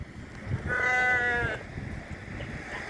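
Sheep bleat loudly in a drawn-out, wavering call from a flock being walked along a highway near Telaprolu, with one strong bleat mid-clip over steady outdoor background noise.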